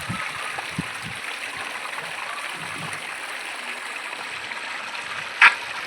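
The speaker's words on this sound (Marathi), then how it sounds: "हा ते पाणी नदीचा परिसर तुम्ही पाहू शकता" River water flows behind a Shiva temple, heard as a steady, moderately loud rushing wash with a few faint knocks and one brief sharp click near the end.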